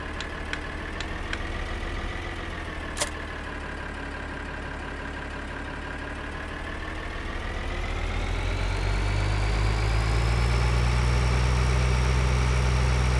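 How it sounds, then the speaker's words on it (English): An old diesel tractor in Farming Simulator idles with a steady harmonic hum, a brief click early on, then the engine note swells deeper and louder toward the end. "Love that diesel sound."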